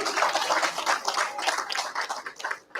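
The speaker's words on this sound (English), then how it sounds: "give her a round of applause" A round of applause for a donor at a fundraising dinner during an annual award ceremony: dense, steady crowd clapping that fills the room and fades only slightly near the end.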